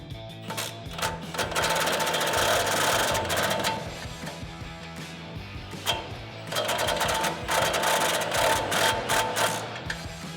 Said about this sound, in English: We're going to tighten down the lower strut bolt.